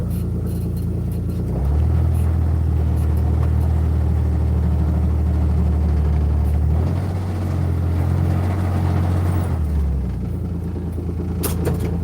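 A small car engine drones steadily and close by, a low rumbling hum that shifts pitch partway through as the car drives across a yard by a shed.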